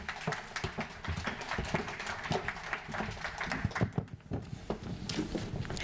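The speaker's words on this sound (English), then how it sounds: "Let's have a little round of applause for our lovely panelists." Scattered clapping from an event audience greets panelists coming onto the stage, a moderate, uneven patter of hands mixed with footsteps and shuffling, fairly close and fading unevenly.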